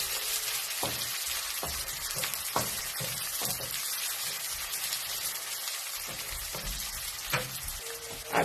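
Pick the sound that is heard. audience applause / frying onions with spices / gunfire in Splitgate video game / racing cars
frying onions with spices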